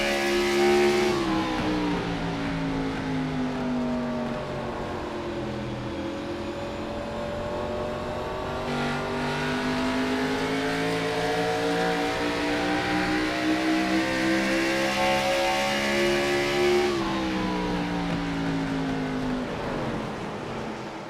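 NASCAR X-Series race cars roaring around New Hampshire Motor Speedway, a continuous loud engine drone with rising and falling pitch as cars pass, no talk.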